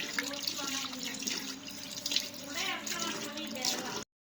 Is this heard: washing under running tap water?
yes